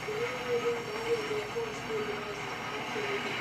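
A train in the BeamNG Drive video game, modded, rumbles faintly and steadily with a thin, wavering tonal whine running through it, alone with no talk.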